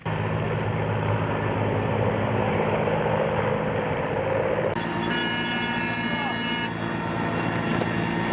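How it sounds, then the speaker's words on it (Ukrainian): A military helicopter carrying special forces troops lifts off, its engine and rotor roar steady, loud and close throughout, with a shift in tone partway as it leaves the ground. "Гвинтокрил відривається від землі."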